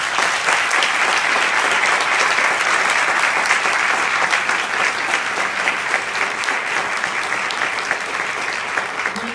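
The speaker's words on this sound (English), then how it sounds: "Please welcome all with a nice round of applause" Audience at a diplomatic ceremony for a new US ambassador to Guatemala applauds steadily, a dense, even wash of many hands clapping that holds at full strength throughout with no talking.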